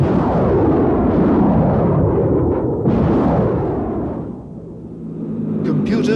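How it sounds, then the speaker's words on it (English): An MLRS launch vehicle fires a salvo of rockets, a loud roaring blast that rumbles and swells, surges again, then fades into a lower rumble, heard from a distance without talk. "This combination permits the launch vehicle to accurately aim and fire its powerful salvo of rockets entirely automatically."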